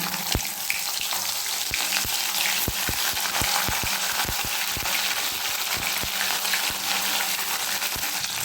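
Bitter gourd sizzles steadily in hot oil, a constant frying hiss broken by sharp clicks of a spatula against the pan.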